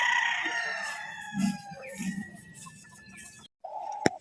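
Gamefowl stags at a game farm crow loudly one after another, long drawn cock-a-doodle calls overlapping with lower clucks, close and clear before a brief gap and a sharp final sound.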